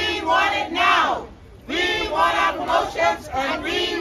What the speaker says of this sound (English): That was the sound of scores of employees at the Public Treasury Department